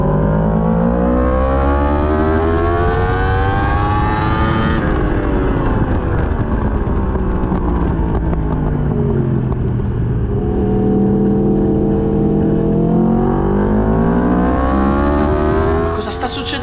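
A racing motorcycle engine at full throttle on a straight, its electronics cutting power, a loud, continuous high-revving wail that climbs and dips in pitch as it shifts, with a voice talking over it.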